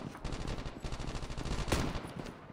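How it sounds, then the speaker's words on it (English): Rapid automatic gunfire in the mobile shooter game Call of Duty Mobile, a continuous burst of closely spaced shots with a sharper crack near the end, no voices over it. "He's shooting at something"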